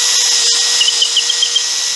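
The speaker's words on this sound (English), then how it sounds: "we can't keep talking about drill bits without actually drilling into something" Power drill boring a hole into a wooden board in a woodworking shop, a steady high whining buzz with faint rhythmic chatter from the bit biting into the wood, close and continuous throughout.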